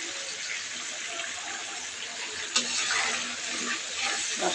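Liquid juice poured into a cooking pot of spiced oil and milk while pulao cooks, a soft steady pouring wash with a brief louder splash midway.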